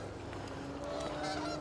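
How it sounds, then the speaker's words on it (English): Geese honk while flying south overhead, a few distinct calls rising over steady wind and road noise heard from a moving electric mountain bike. "There's the geese heading south."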